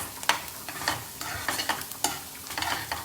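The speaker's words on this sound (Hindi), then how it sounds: "ये है कांदा जो फ्राई हो रहा है, इसमें रेड रेड चटनी डाली हुई है हमने" Chopped onion with red chutney frying in a pan is stirred with a utensil, giving sharp, irregular scraping clicks over a soft background sizzle, close and alone.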